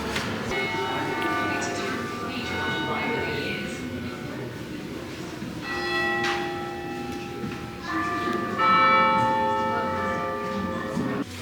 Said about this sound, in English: So we did hear the bells.